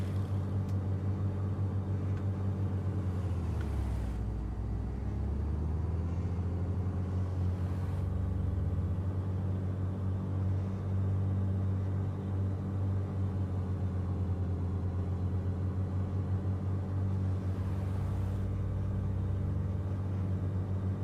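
A Beechcraft Duke twin piston aircraft in a flight simulator game runs up its propellers, a steady deep engine drone with slow swells in RPM, continuous and loud throughout.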